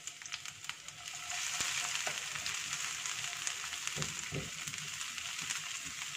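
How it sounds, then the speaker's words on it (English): Crushed and chopped garlic frying in olive oil, a steady bright sizzle that swells after the first second and carries on with a few soft clicks of a utensil, with no talk. "I'm going to add it to my olive oil"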